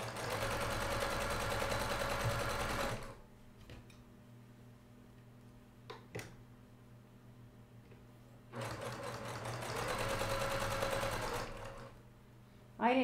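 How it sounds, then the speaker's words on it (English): Two bursts of fast, close sewing machine stitching on quilt fabric, separated by a quiet stretch with a few soft clicks and handling sounds. "I let my sewing machine do the work."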